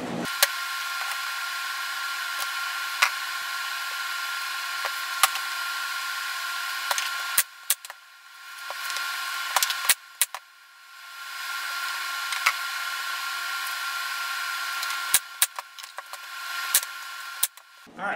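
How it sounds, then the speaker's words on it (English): Power saw set to a 9 1/4 inch cut slicing wooden bottom panels for a Langstroth hive sugar feeder, a steady loud whine running through most of the cut with brief dips and sharp clicks. "Okay, I'm cutting the bottom panels, and I've got my saw set to 9 1/4 inches."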